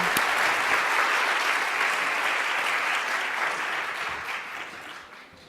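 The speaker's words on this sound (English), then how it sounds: "Let's give them a round of applause and have Darren come on back." Seminar audience applauding panelists, a dense steady roar of many hands clapping that holds strong before tapering off toward the end.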